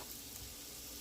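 Vegetable fried rice, Jamaican style, sizzles in a pan, a steady faint frying hiss with no other sounds and no speech.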